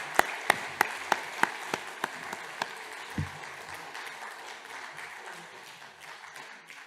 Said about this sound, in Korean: 박수로 다시 한번 축복해 주시기 바랍니다.